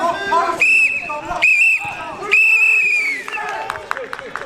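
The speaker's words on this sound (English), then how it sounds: "with the half time whistle about to go" A referee blows the half-time whistle at an outdoor 5-a-side football match, three loud shrill blasts, the last one held longest, with players' voices and crowd chatter around them.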